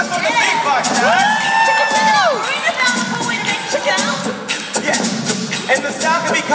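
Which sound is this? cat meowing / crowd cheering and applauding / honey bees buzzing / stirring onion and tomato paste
crowd cheering and applauding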